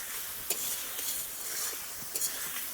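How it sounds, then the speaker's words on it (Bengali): Boiled potatoes are stirred in a pan for a Bengali egg ball curry, a faint soft sizzle broken by a few light scrapes and taps of a spoon against the pan, quiet and close, no talking. "এবারে এদিক ওদিক নাড়াচাড়া করে পরিমাণ মতো জল দিয়ে দেব"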